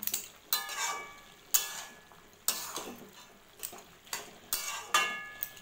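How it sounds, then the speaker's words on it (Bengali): Pumpkin-leaf chorchori being stirred in a pan: a spatula scrapes and clinks against the pan in repeated strokes over a steady soft sizzle, close and moderately loud. "আবার আমি ঢেকে দেবো, একটু নাড়িয়ে দিই।"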